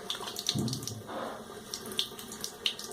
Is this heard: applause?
no